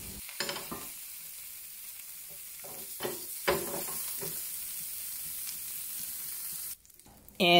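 Tofu pan frying in a well-seasoned cast iron flat-bottom pan, a soft steady sizzle with scattered spatula clicks and scrapes, quiet and close, swelling into a louder burst at the very end.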